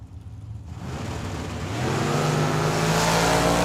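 A Camaro and a Chevy pickup roar off the line side by side at Tucson Dragway, the engines swelling into a loud, sustained, rising drone close by with no talk over it.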